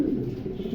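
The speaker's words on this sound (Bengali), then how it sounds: "অনেক বিগ সাইজের কবুতর" Large pigeons cooing at a pigeon seller's, low, soft, throaty coos close by, continuous over a brief moment with no voices.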